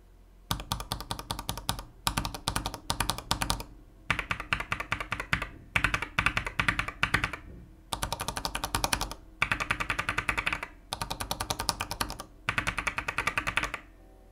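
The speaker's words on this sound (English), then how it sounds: "I'm gonna do a quick sound test using the exact same unlooped Gateron Yellow switches." Small osu! keypad fitted with unlubed Gateron Yellow switches, typed on in rapid bursts of sharp clacky keystrokes grouped into regular runs with brief pauses, close and alone.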